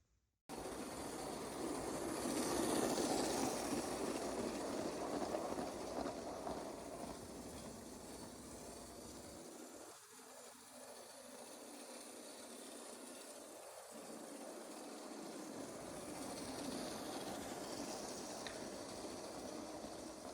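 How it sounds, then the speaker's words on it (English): LEGO Union Pacific toy train running around a tabletop test track layout, a steady faint rolling clatter that continues alone throughout with no talk. "let's run this train around our test track layout here"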